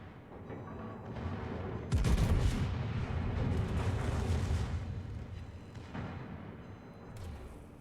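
Big-caliber main guns of the USS Ohio battleship fire in a naval video game, a heavy booming salvo followed by rolling rumble and a second fainter blast, no talking.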